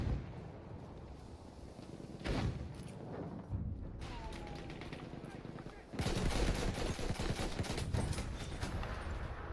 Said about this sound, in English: the amount of grenades getting tossed right now